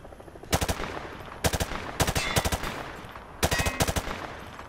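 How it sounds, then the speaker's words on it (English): Automatic weapon fire at range targets in Modern Warfare 2, loud rapid bursts in four separate volleys, each a quick string of sharp cracks, with no talk over them. "Grab that weapon off the table and fire at the targets behind you."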